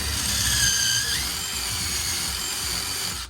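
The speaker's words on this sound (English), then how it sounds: "Now, we are gonna pre-drill this too." A power drill runs steadily, its high whine dipping slightly as it pre-drills solid oak for a wall-mounted handrail, close and continuous.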